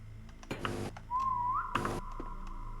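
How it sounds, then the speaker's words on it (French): A person whistles in the game SCP-3008, a single rising tone that settles into a steady held note, with bursts of background noise around it. "Laisse-moi siffler."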